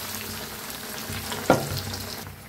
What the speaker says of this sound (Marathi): आता सोडूया तेला.